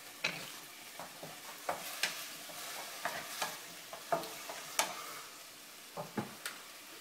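A mushroom and tomato omelette mixture with soy sauce sizzles in a frying pan, with scraping stirring strokes recurring every half second or so over a steady close fry; no voices.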